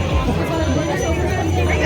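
Festival crowd gathering for Durga Puja Vijaya Dashami in Kalahandi under rain, a dense close hubbub of many voices chattering at once, loud and continuous.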